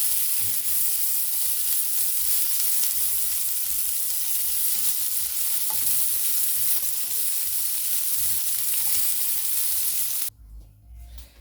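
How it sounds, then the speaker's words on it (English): Red onion and coriander stems frying in a pot of meatball stew, close to burning: a loud, continuous close sizzle and hiss that cuts off abruptly near the end, leaving quiet stirring. "my onions are almost burning, but I'll still go ahead and they are not badly off"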